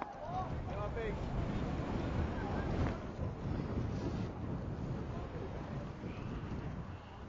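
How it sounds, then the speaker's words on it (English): Strong wind gusting across an outdoor baseball field during a boys' high school game, a steady roaring rush of wind noise buffeting the microphone, with faint distant voices beneath. "That wind really sweeping right across the field."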